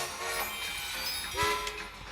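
A long train in the Train Conductor World mobile game, a rumbling rail sound with a horn-like tonal toot swelling midway, short and moderately loud with no talk.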